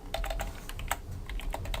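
Close, rapid clicking of computer keyboard keys in a quick, uneven run of keystrokes with no speech.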